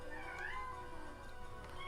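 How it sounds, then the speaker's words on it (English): A pet cat meows softly and faintly in the background of a quiet room, a single drawn-out call with no talking over it. "Oh, there's my cat."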